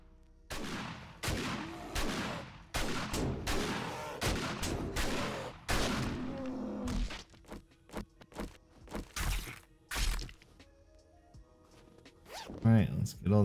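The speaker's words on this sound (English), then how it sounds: "I'm gonna use this shotgun for it." A shotgun fires repeatedly at a bear in the survival game 7 Days to Die: Darkness Falls, with a rapid run of loud, sharp blasts followed by sparser shots and thuds, while someone talks over it.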